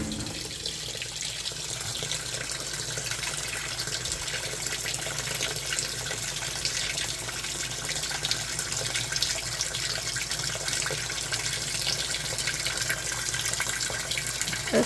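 An Amana NTW4519JW2 top-load washing machine fills its tub with water during a speed wash cycle, giving a steady, loud rushing gush that runs unbroken from start to finish with no break in the flow.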